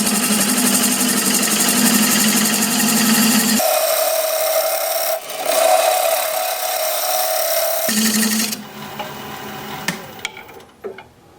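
A wood lathe spinning at 700 RPM as a 1/2 inch bowl gouge cuts an end-grain bowl with a CA-filled crack, a loud steady whine whose pitch and tone shift as the cut changes, then settles quieter near the end.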